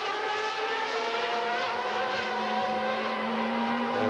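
Formula One race cars thundering down the straight in close pursuit, a sustained high-pitched engine whine with steady harmonic tones, continuous and loud.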